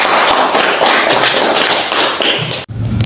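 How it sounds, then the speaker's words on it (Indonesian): A classroom full of students claps in a dense, steady burst of applause for about two and a half seconds, close and loud, ending abruptly with a few quieter trailing claps. "Kasih aplaus dulu"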